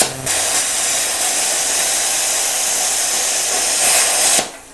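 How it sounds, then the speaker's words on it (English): A plasma cutter running on low air pressure, around 22 psi, slices through a bolt with a loud, steady, close hiss that starts abruptly and cuts off after about four seconds. "How about if you had to cut a bolt or something off with that lower air pressure?"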